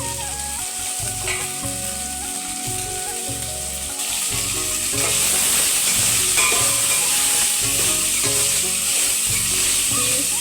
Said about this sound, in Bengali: গাজর কাঁচা লঙ্কা কিশমিশ কাজু যা কিছু ছিল ঘরে আমি সব কিছু একসাথে ভেজে তেলের মধ্যে সামান্য ভেজে নিই